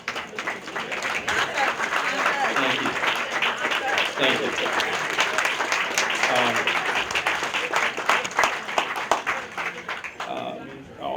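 Guests at a holiday dinner and dance applaud for sponsors with sustained, fairly loud clapping that fades toward the end, while a voice briefly speaks thanks over it.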